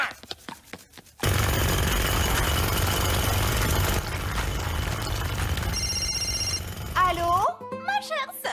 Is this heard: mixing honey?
no